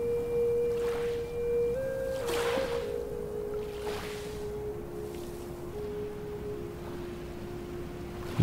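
Gentle ocean waves wash steadily on a beach, a soft continuous surf under a sustained flute melody in a calm relaxation setting, with broad swells rising and falling every couple of seconds.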